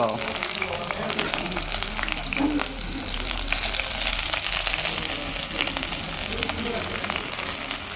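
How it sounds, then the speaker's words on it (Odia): Onions dropped into lightly oiled pan for a potato and soybean curry, giving a steady, even sizzle and crackle throughout, fairly loud and close with no talking. "ଏବେ ହାଲକା ତେଲ ଦେଲେ। ମାଲିକେ ପଡ଼ିଲା ପିଆଜ।"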